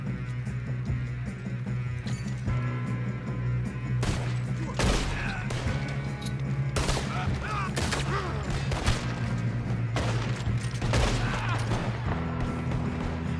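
Gunfire in the video game Red Dead Redemption 2 sounds as repeated loud shots and bursts over a constant hum of game sound, with people talking in between.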